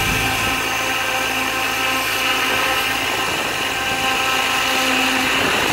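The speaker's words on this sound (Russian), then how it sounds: "любимый вертолет" A Protos Max V2 RC helicopter engine runs steadily throughout, giving a loud, continuous high whine with a dense buzzing tone that holds at an even level for the whole stretch, with no talking.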